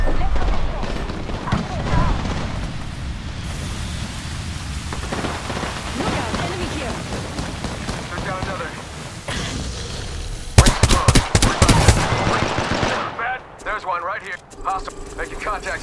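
Video game shootout with bursts of gunfire, dense crackling shots mixed with in-game radio voices and ambient noise, a louder sharp volley near the end.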